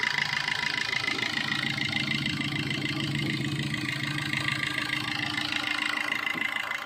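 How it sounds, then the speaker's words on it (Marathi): A Maruti Ertiga ZDi Plus diesel car engine idles smoothly and steadily, a continuous even hum with a low firing rumble, close by and alone with no talking. "याच्यावरनं तुम्ही बघू शकता गाडीचं जे फायरिंग किती स्मूथ आहे आणि गाडीचं इंजिन किती चांगलं आहे"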